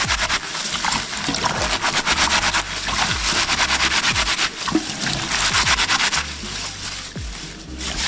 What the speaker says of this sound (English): Then I'll just grab the handfuls and just rub together.